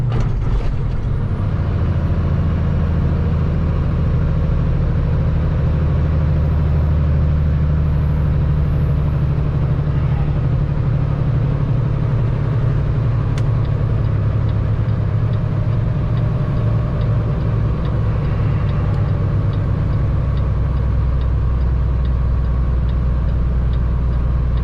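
A truck being driven through New York, with a steady low diesel engine drone and road rumble running continuously and loud as the driver skips gears and shifts at low revs, a faint ticking near the middle.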